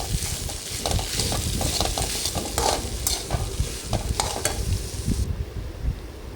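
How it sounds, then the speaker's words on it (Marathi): Spatula scraping and stirring samosa filling in a pan, irregular clinks and scrapes over a soft sizzle, close and steady with no talking. "आता हे सगळं आपल्याला एकजीव करून घ्यायचं आहे"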